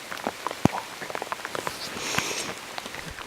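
Rain patters outdoors on an Alaska moose hunt, scattered drops tapping nearby surfaces over a soft steady hiss, moderately close with no voices.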